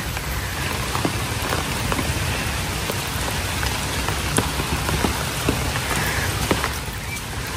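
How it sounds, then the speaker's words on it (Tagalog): Steady rain patters on a surface, a dense even hiss with scattered drop taps and no voices. "medyo tumitila na po ang ulan"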